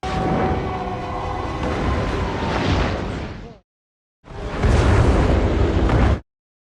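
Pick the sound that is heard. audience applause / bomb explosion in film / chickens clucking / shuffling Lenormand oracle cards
bomb explosion in film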